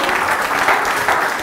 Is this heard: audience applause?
yes